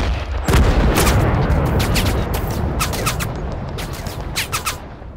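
Heavy gunfire and booming blasts from the war strategy game Total Conflict: Resistance, with a dense, loud barrage of rapid shots and sharp cracks continuing over a rumbling battle background.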